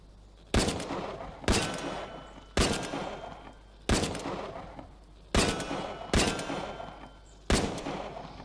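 Seven single rifle shots fired at a steady pace in a VR shooting game, each a sharp, loud crack followed by a short echoing decay, spaced about one to one and a half seconds apart.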